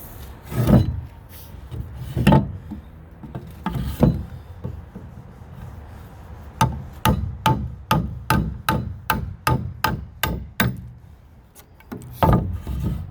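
Wood chisel notching a small recess into a board, a few spaced heavy strikes followed by a quick run of about a dozen sharp regular taps, then a couple more hits, close and loud.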